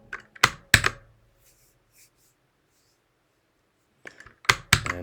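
Computer keys are typed in two short bursts of crisp, close clicks separated by a quiet pause, while code is entered in a Rust programming exercise.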